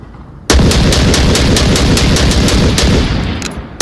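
A rifle of the Volk team fires in the VR game Onward, a loud, close burst of rapid automatic shots lasting about three seconds after a short quiet lead-in.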